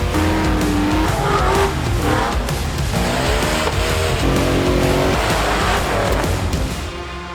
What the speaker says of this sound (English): Do you want to see this busted knuckle rock buggy conquer some of the toughest obstacles of Helen Back?